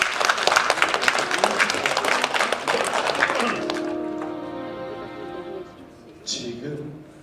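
An audience claps warmly to welcome a popera singer onto a stage at a Korean charity concert, dense applause for several seconds that thins out as piano music begins underneath.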